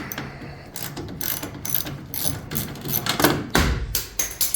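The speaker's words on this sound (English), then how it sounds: "Get your ratchet in the correct way, of course." A hand ratchet backs out 10 mm bolts holding a car's reverse lamp, its pawl clicking in quick, close bursts with short pauses between strokes and loud clacks near the end.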